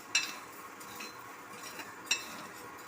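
Urad dal dry-roasting in a pan, with a soft continuous rustle of stirring and two sharper clinks of the spoon against the pan.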